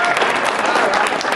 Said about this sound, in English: Come on, I'll give you a round of applause.